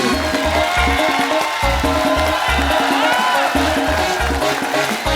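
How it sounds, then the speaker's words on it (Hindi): A studio audience at a Kapil Sharma Show taping claps and cheers loudly and continuously, with a steady thumping rhythmic beat running underneath the crowd noise. "तालियां।"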